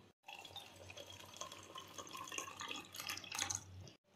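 Tap water filling a container at home, a quiet steady splashing and trickling stream rising slightly in intensity, close but faint, with no talking.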